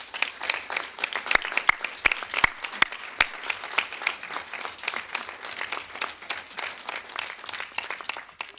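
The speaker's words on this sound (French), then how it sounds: "Je pense qu'on peut les applaudir." A council chamber audience at a municipal installation session breaks into steady applause, dense and sustained throughout, with a few sharper individual claps standing out near the front.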